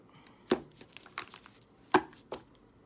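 Tarot cards being shuffled give a few soft, scattered riffling slaps and snaps, two sharper hits standing out among quieter rustles, close and faint, no talking.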